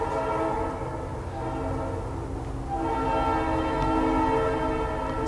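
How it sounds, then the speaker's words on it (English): A train passes close by with its horn blaring in long sustained harmonic blasts over a steady rolling rumble, loud and continuous throughout. "Train."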